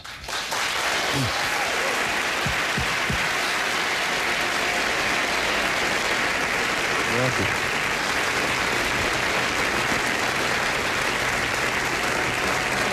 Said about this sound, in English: People applauding that I'm not dead